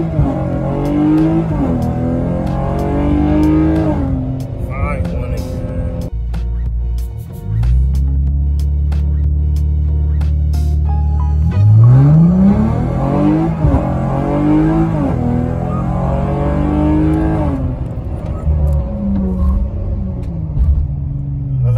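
A Dodge V6 car runs a 0-60 acceleration pull, its engine rising in pitch through the gears with a brief lull and shift, loud and close from inside the car.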